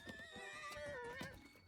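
A horse whinnies in Breath of the Wild, a close, rising-and-falling neigh with bright harmonics lasting under two seconds, heard alone with no talk.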